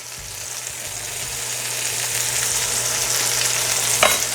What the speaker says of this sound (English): now we're just going to go in with the garlic